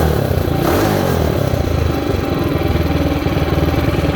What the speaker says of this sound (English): it's even idling better now that I fixed the valve